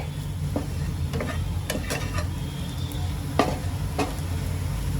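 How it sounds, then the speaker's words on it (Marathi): Ivy gourd (tendli) fries in oil with besan and spices, giving a steady close sizzle throughout, broken by scattered scrapes and clinks of a spatula against the pan. "दोन मिनिटं चांगलं एकत्र तेलामध्ये मी सगळं मसाल्यांसोबत एकत्र तळून घेते"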